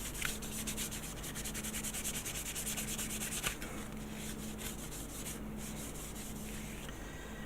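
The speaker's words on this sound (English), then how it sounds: "Now I'm going to rub here. Yeah, quite rough, and you can actually hear it get smoother." Rough plastic model kit part of a 1/600 Star Trek Enterprise being rubbed smooth, a close, continuous rhythmic scratchy sanding rasp with quick back-and-forth strokes, no talk.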